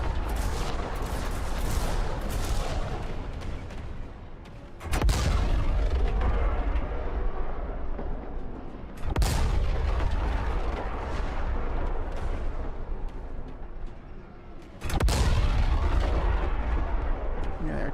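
Artillery fire and explosions in the strategy game Sanctuary: Shattered Sun. Several sharp booms land in turn, each followed by crackling rumble, over a continuous battle din.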